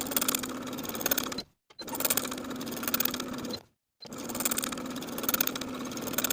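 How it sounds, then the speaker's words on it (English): A sewing machine edge stitching sleeve hems, a steady close whirring run that stops twice briefly before resuming, with no talk. "I'm going to edge stitch close to that upper inner fold all the way around."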